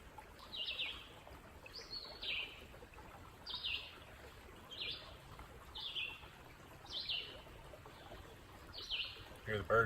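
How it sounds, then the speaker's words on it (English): Birds chirp in short repeated bursts roughly every second, fairly faint, over a soft rushing background like trickling water, on the Pinhoti Trail. "hear the birds chirping."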